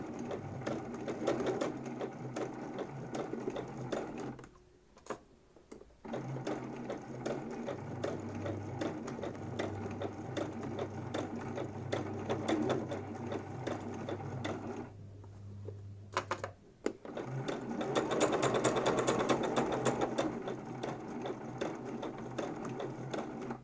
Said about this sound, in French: Ça permet de coudre au plus près en fait.